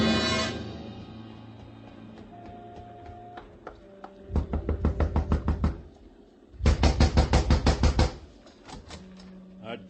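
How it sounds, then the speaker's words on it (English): Knocking on a door in an old-time radio crime drama, rapid rhythmic bursts of close, crisp raps repeated in two long runs after a brief musical sting, mostly without talk. "A gentle knock does it, Mac."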